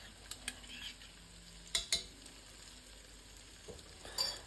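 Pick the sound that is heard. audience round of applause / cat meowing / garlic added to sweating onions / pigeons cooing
garlic added to sweating onions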